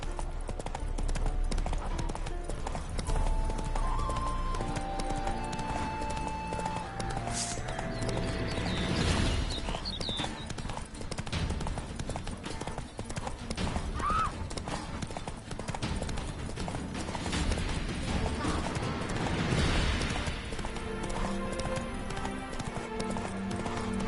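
Hooves of the horse Roach clip-clop steadily in a video game, a continuous trotting rhythm over game music and ambience, with a brief whinny-like sound and occasional voices.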